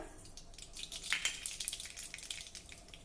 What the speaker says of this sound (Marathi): तेल गरम झालं की त्यामध्ये थोडी मोहरी घालूया